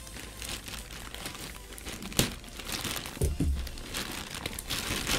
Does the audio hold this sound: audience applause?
no